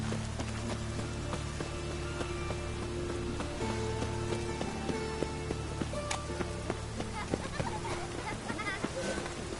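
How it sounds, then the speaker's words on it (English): Steady rain falls in The Witcher 3, a continuous wash of patter heard throughout the game scene, with animal bleats and tonal game sounds mixed in. "What's new? It just rains and rains."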